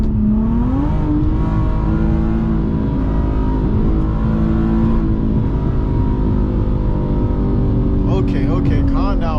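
Infiniti G37X car engine droning steadily while driving, a sustained loud hum that rises slightly in pitch, with someone talking over it throughout.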